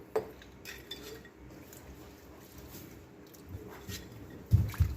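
A hot glass jar, just lifted from boiling water while canning green beans, is handled with faint clinks and soft knocks against dishes, quiet and sparse, ending in a louder bump close by.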